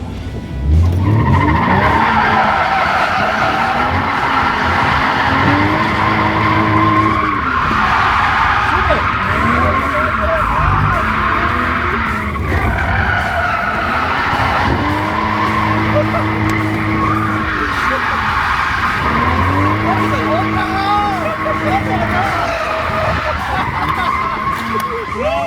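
A drifting car screeches through repeated tire skids and squeals, engine revving in cycles between slides, loud and close throughout, with occasional voices under the noise.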